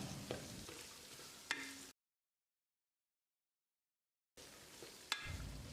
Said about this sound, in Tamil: சின்ன வெங்காயத்தை கண்ணாடி பதத்துக்கு வதக்கிடலாம்.